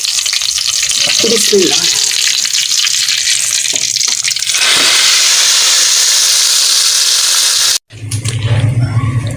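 Cumin seeds, ajwain and small red chillies hit hot oil for a tadka over kadhi pakora, giving a loud, steady frying sizzle with stirring clatter. The hiss swells midway and then briefly cuts out. A voice speaks a single word near the start.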